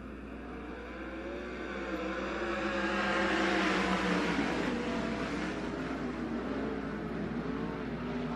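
ASCS National Sprints sprint cars race at Devil's Bowl Speedway, a pack of engines roaring in the distance and swelling louder as the field passes, then fading slightly, with a steady low hum underneath.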